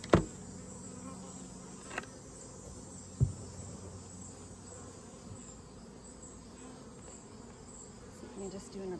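Honey bees buzz inside a 24-frame Layens horizontal bee hive during an inspection. Their drone is faint and continuous, with a few sharp knocks near the start.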